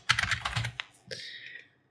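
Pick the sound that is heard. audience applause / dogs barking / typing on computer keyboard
typing on computer keyboard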